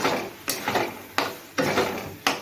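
A ridge gourd and poppy seed curry with a little water is stirred in a pan at home, with a spoon scraping and knocking the pan in repeated strokes about every half to one second, close and loud.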